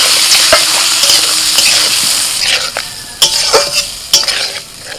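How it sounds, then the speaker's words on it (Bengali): Fried potatoes cooked down with salt, turmeric and ground spices in a pan, loud close sizzling with spatula scraping and clattering strokes that grow louder and more frequent toward the end. "মশলার সাথে আলুটাকে মিনিট দুয়েক নাড়াচাড়া করে নিয়ে"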